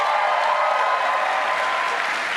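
An audience breaks into sustained applause, a dense and even wash of many hands clapping at once that holds steady and fairly loud from start to finish.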